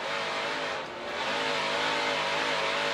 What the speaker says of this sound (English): Listening to that engine churn as he just jumped on that gas pedal.